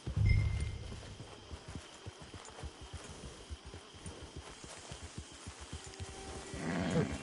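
Horse hooves in the video game Red Dead Online, a steady run of clip-clop steps at a walking pace, moderately close, with low rumbling noise at the start and end.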